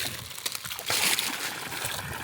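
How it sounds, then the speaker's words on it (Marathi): Water pours into a 300 litre tank with a close, rushing slosh and splash that swells into a louder gush midway, then runs on steadily. "200 लिटर पाणी टाकून घ्या."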